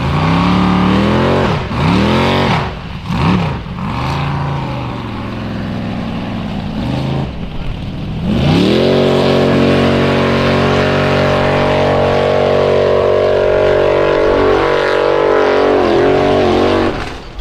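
Formula offroad car engine at Stapafell in Iceland, loud and close, sputtering and cutting out in rough bursts with engine issues, then holding a steady high roaring rev on the course.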